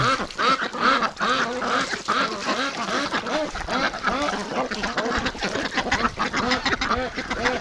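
A flock of ducks quacks continuously and loudly, many overlapping calls in rapid, chattering bursts close by.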